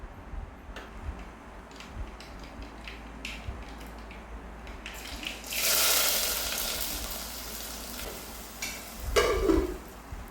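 Mustard seeds crackle and sputter in a hot pan while being stirred, scattered ticking pops rising into a louder sizzling burst midway and a scraping stir near the end.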